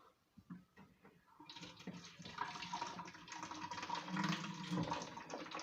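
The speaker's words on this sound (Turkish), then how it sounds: "Evet ben hipoyu da doldurayım şöyle." Bleach (hypochlorite) pours from a jug in a steady liquid stream that swells after a few soft clunks, close and continuous for several seconds.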